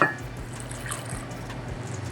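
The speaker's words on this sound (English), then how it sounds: "don't forget to dump the water" Pre-rinse water from a Kalita Wave pour-over being poured out, a steady trickling splash of liquid with a few drips, close and fairly quiet with no talking.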